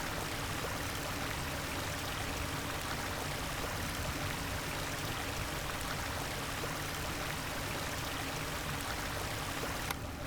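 Flowing stream water in a video game, a steady broadband rush that stays even and continuous throughout, moderately loud with no talk.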